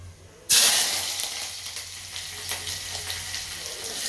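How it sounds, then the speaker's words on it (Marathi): Onion and curry leaves drop into hot oil, setting off a sudden loud sizzle that settles into a steady frying hiss with occasional stirring, close and with no voices. "कांदा पहिला टाकून परतून घेते कडीपत्ता टाकलेला कांदा टाकलेला आहे"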